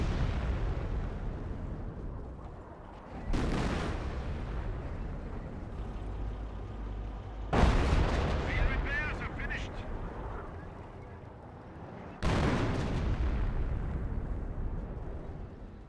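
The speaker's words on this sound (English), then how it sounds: "Priest firing away. Which he may lose his Pack 58. Looks like just general blind barrage here." Heavy artillery shells from a Priest self-propelled gun in Company of Heroes, three loud booming impacts spaced several seconds apart, each with a long rumbling tail, under a commentator's ongoing talk.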